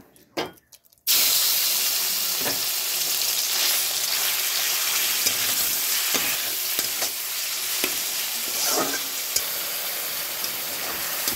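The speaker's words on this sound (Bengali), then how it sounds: "চিকেনটা ভেজে নিব" Chicken fries in white oil, giving a loud, steady sizzle and hiss that starts abruptly after a brief quiet moment and continues without a break, with small crackles and spits throughout.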